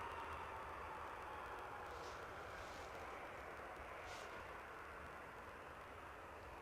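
Jet airliner departing Bristol Airport, a steady, loud broadband engine roar rolling on without a break, with brief hissing surges rising and fading over the top.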